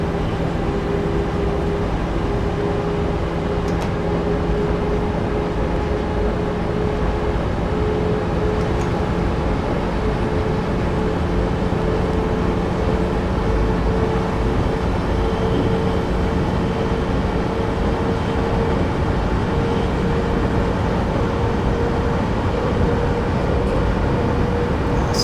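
A train in Train Sim World 5, running from Stuttgart Hbf toward Berlin, gives a steady, loud rumble with droning tones throughout, no clear approach or fade, and no talking.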